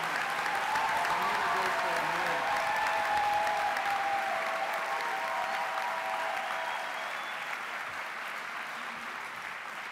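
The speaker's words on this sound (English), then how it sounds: "Let's give our bachelor's graduates another round of applause." A large commencement audience applauding bachelor's graduates, a loud sustained wash of clapping that slowly fades, with some crowd noise under it.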